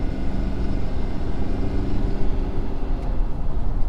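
Steady low rumble from a 2017 Ford F250 Powerstroke diesel pickup truck pulling hard under acceleration, a continuous engine and road drone close by with no talking.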